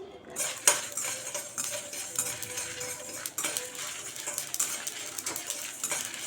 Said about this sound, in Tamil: இப்போ வெந்தயத்தையும் கடுகையும் சேர்த்து நல்லா பொரிய விட்டுறலாம்.